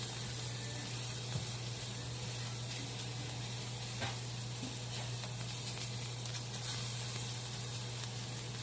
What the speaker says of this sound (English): I'm going to just saute it for about 3 minutes